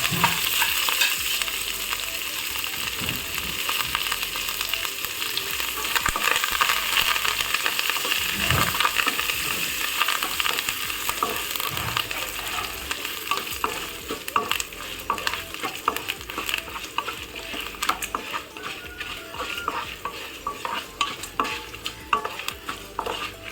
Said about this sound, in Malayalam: അതിനോടൊപ്പം തന്നെ നമുക്ക് ഈ ഉഴുന്ന് അങ്ങോട്ടിടാം. കരിയാപ്പിലയും കൂടെ ഇടാം.